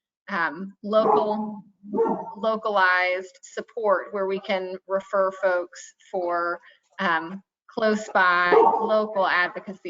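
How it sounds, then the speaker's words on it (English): A dog barking in short sharp yips behind someone talking steadily at a public meeting, the barks mixed into and partly masked by her speech. "And I apologize about my dog."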